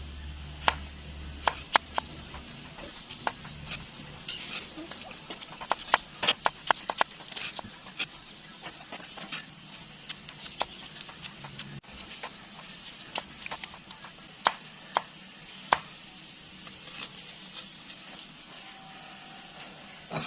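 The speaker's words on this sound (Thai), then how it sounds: "หลังจากหั่นหอมแดงแล้วเขาก็จะ หั่นมะเขือเทศนะครับ" Sharp knife strikes chopping tomatoes on a cutting board, irregular and scattered chops over a steady low background hiss, with no talking.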